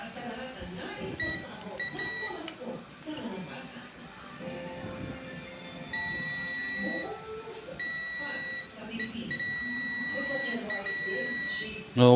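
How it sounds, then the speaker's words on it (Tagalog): Continuous electronic beeping of a multimeter in continuity mode while a suspected shorted MOSFET in a Samsung MX-HS7000 Giga Sound system is probed, the steady tone starting and stopping in long stretches under someone talking and workshop background noise. "May buzzer talaga."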